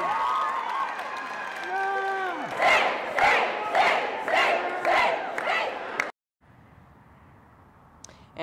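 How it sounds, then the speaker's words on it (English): A crowd at the Oklahoma State Capitol erupts after news of clemency for Julius Jones, with sustained shouting and cheering in loud rhythmic waves of whoops, preceded by a sustained wailing cry, then cutting off abruptly. "those were people cheering for Governor Kevin Stitt"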